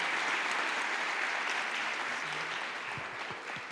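Applause from an audience at the close of a lecture on the expert witness in judicial investigation, a dense steady wash of many hands that fills the whole stretch and eases off slightly near the end.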